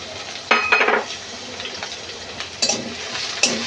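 Shrimp frying with onions in a pan sizzles softly and steadily, broken by a few sharp scrapes and clinks of a spoon stirring against the metal.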